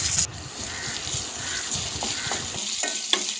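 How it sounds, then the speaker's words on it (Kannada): Mustard seeds, curry leaves and onion sizzle in hot oil for a Mangalorean-style curry tempering, with a steady close frying hiss, light stirring scrapes and a few sharp pops near the end. "ಈಗ ಒಗ್ಗರಣೆ ಹಾಕುವ."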